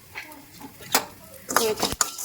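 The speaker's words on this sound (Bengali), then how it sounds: "আগে ব্ল্যাক পেপারটা ভেজে নিচ্ছি" Black peppercorns dry-roasting in a pan, stirred with scraping and rattling clatter in irregular bursts, close and moderately loud, with a soft sizzle underneath.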